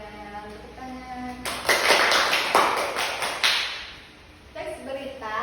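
Classroom students applauding a classmate after her practice teaching presentation, a burst of loud, close handclaps lasting a couple of seconds, with quieter voices and tones before and after.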